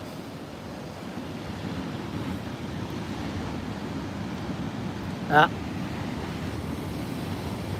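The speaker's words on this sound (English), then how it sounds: "There is a lot of water moving down there." Ocean surf churns against coastal rocks at Fingal as a constant broad rushing roar, wind buffeting the microphone, with a short faint sound briefly standing out near the end.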